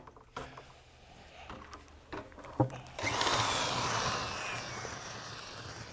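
Power drill boring into plywood during a concrete-over-plywood install, a steady whirring grind starting partway through after a few sharp knocks and clatters, close and fairly loud.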